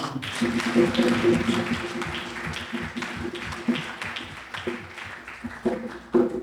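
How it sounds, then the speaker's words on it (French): Applause for parents from a public-speaking event audience, steady dense clapping with scattered voices mixed in, moderately loud and continuous. "un tonnerre d'applaudissements pour papa et maman"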